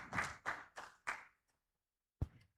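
A few sharp hand claps land in a quick, evenly spaced run after a speech at an agricultural extension event, then a pause and one last dull clap or tap, all faint and without voices.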